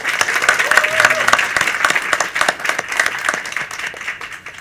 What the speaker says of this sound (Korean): 올해는 꼭 대학 다 붙으라고 박수 한번 부탁드립니다